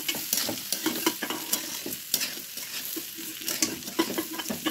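Ghee-coated rice frying in a pan, a steady close sizzle broken by frequent scraping stir strokes in an uneven rhythm, with no voices.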